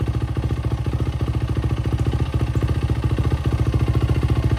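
A 2008 Yamaha WR450F dirt bike with a newly installed exhaust runs close and loud, its single-cylinder engine throbbing in a rapid, even pulse throughout.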